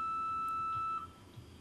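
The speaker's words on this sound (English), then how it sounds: "Following the beeps of the machine" A single steady electronic timing beep from a microcurrent machine holds for about a second, then cuts off, leaving quiet low hum.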